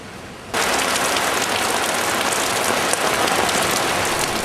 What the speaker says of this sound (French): La pluie ne durera pas pourtant